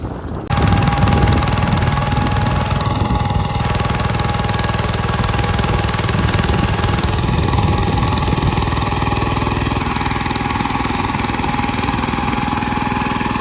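A heavy tractor engine runs steadily nearby on a farm field, a loud continuous rumble with a rhythmic knocking throb, starting abruptly after a brief quieter moment.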